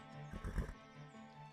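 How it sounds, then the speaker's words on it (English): A horse in a video game, one being tamed, gives a single loud whinny that rises and falls at mid-clip, with soft hoof clip-clops and a low game background around it. "I'm still taming that horse."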